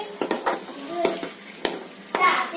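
Eggs stirred in a pan with salt, turmeric and chili powder for egg pulusu, heard as repeated scraping and clinking strokes of a spoon against the pan over a low sizzle, close and fairly loud.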